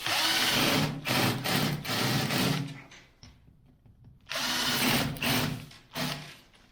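Screws driven with a power drill into old cracked plaster during restoration work: loud bursts of drilling and screwing whirr in repeated runs, broken by a quieter pause midway before the tool starts again, close up and alone.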